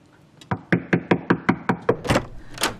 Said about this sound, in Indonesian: Aku ketok dulu ya.